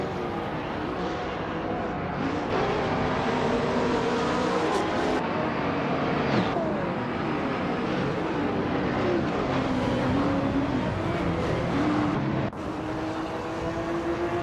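Race cars drive and overtake in a racing video game, with several engine notes rising and falling in pitch as cars accelerate, shift and pass, forming a continuous, moderately loud layered drone.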